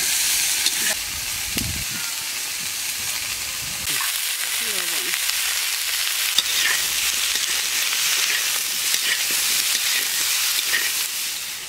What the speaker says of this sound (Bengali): এবারে আমি এক এক করে সবগুলো সবজি ভেজে নেব।